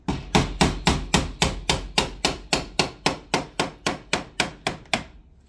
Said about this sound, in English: You gotta take a hammer and just get it started.